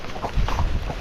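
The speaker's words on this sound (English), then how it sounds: "Now we're going to ride around the barn." A Tennessee Walking Horse ridden around a barn gives a few quick, soft hoof clops close by, muffled and uneven.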